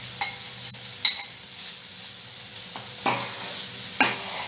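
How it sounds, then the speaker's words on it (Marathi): Cooked rice for a green vegetable pulao tipped into a hot pan and stirred, a soft background sizzle broken by several sharp scraping and clattering strokes spaced about a second apart, no talking. "आणि आता हा भात आपण त्याच्यात टाकून घेणार आहे."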